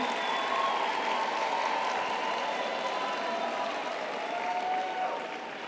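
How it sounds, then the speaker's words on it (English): Large graduation ceremony audience applauding the graduating class of 2023, a sustained, moderately distant wash of clapping with crowd murmur, steady throughout and tapering slightly at the end. "let's give a round of applause to the graduating class of 2023"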